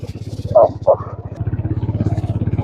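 A motorcycle chugs along a dusty road with a steady, close, pulsing engine thump, while someone speaks briefly over it.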